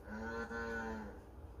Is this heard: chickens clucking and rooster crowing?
no